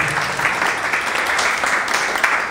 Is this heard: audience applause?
yes